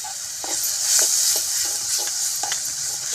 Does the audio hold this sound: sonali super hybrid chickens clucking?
no